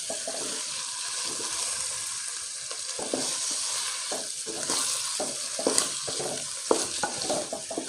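Chicken pieces and wheat frying in a pot for yakhni, a soft steady sizzle with intermittent stirring scrapes and clinks that grow a little more frequent toward the end, no talk.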